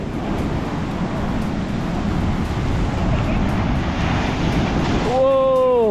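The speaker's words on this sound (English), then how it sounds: "And then water just clashing onto the rocks right here. It is high tide right now" High-tide ocean waves crashing onto rocks at La Unión, El Salvador, a steady roaring wash of surf throughout, with a brief rising tonal sweep near the end.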